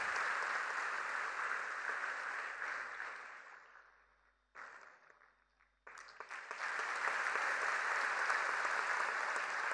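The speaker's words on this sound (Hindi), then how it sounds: "तालियों का आशीर्वाद।" An audience applauds a first-prize winner at a cultural music festival, a steady, loud wash of clapping that thins and briefly drops away midway, then surges back full and sustained to the end.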